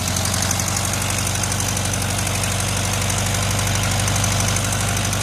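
A 1973 VW Karmann Ghia air-cooled engine, revived after 28 years, runs at a steady idle with a continuous rumbling drone and a faint ticking knock throughout, close and loud with no talking.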